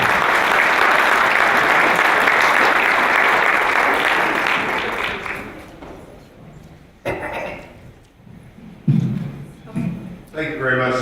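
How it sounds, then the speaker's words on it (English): Warm applause from a conference audience at a state broadband planning event fills the first half loudly and steadily, then fades out, with a few thumps and a voice beginning to speak near the end. "please do give him a warm round of applause because he has made a lot of this happen"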